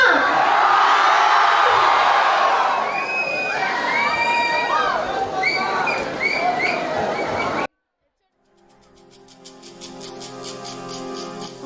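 A college annual day audience cheering loudly, a dense roar of shouts, whoops and whistles from a large crowd that cuts off abruptly, followed by quieter stage music.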